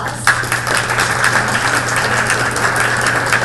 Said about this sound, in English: Would we give Susan a round of applause?